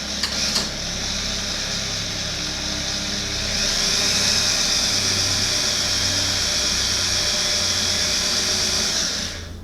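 A power drill whines steadily as it drives the power-window mechanism of a K5 Blazer tailgate, a continuous high mechanical hum that shifts slightly in pitch partway through.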